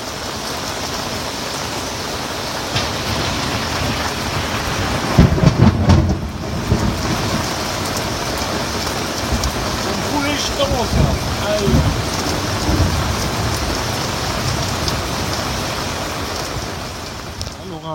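Heavy rain pours steadily with a dense hiss during a thunderstorm near Samos in the Dodecanese, and low rumbles of thunder roll through midway, loud and enveloping.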